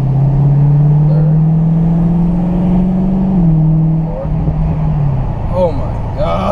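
A 2017 Dodge Challenger 392 HEMI Scat Pack V8 roars loudly and deeply up through the revs in a sustained pull, briefly dipping at a paddle-shift gear change, with voices over the end.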